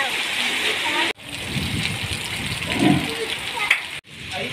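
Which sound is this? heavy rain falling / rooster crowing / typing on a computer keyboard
heavy rain falling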